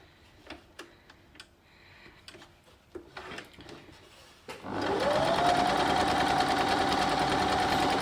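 A sewing machine stitches together the second row of a nine-patch quilt block made of 4.5 inch squares. A few soft clicks and handling sounds come first, then the machine starts up and runs in a steady, loud, close whir to the end.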